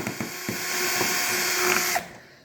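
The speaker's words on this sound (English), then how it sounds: "first thing I do is go ahead and drill the cups" A handheld power drill bores through stacked plastic seed cups, opening with a few short bursts and then running in a steady whine for about two seconds. The whine stops abruptly, all close and loud with no talking.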